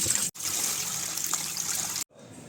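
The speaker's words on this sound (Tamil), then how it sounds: "ஸோ சிக்கன் வாஷ் பண்ணியாச்சு" Running tap water trickles steadily over raw chicken being washed in a home kitchen, a close, continuous splashing stream that cuts out briefly twice.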